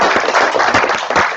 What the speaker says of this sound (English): give him a little round of applause